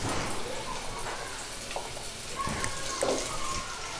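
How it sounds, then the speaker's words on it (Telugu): Pumpkin pieces frying in ghee in a pan give a steady close hiss with scattered crackles and pops, moderately loud and continuous. "ఇప్పుడు ఆ నెయ్యిలోనే మనం గుమ్మడికాయలు వేసుకుందామండి."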